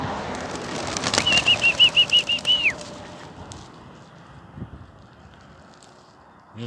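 A flock of racing pigeons is released and takes off, a close burst of rapid wing flapping lasting about two seconds alongside a bright whistle-like tone, then fading into quiet outdoor ambience.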